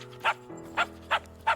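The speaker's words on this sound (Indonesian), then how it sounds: "karena cuma terdengar guk-guk, Max pun disuruh keluar" An animated dog barks four times in quick, evenly spaced yaps, close and clear, over a low steady background.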